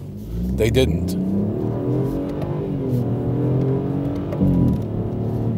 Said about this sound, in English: That sound you're hearing is coming from a three-cylinder engine.